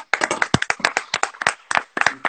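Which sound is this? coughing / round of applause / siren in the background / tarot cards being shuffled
round of applause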